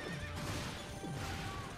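A horse whinnies in a racing video game, a close, loud, drawn-out neigh rising and falling over a dense, noisy game mix, with no talk.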